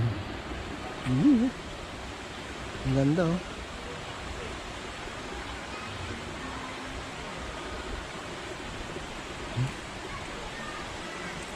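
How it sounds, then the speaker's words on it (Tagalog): A flowing stream at a farm resort in Bataan gives a constant soft rushing wash, with a person briefly speaking over it twice near the start. "Yung mga batis pa, oh."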